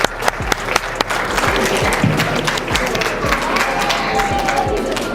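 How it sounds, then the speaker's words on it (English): Audience applause for graduates at a graduation ceremony, a loud sustained crowd clapping with dense overlapping claps and a few sharper individual hits throughout. "give them a huge round of applause again."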